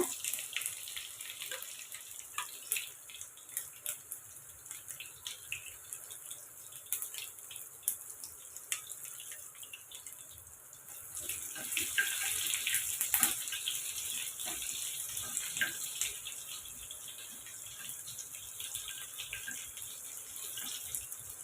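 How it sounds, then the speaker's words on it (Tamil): Mustard seeds and fenugreek splutter in hot oil while tempering for sambar, a faint, continuous sizzle dotted with many tiny crackling pops that grows a little louder partway through, with no talking. "எண்ணெய் காஞ்சதும் கடுகு சேர்த்துக்கோங்க கொஞ்சமாக க வெந்தயம் இப்போ கடுகு வெந்தயமும் பொறிஞ்சிடும்"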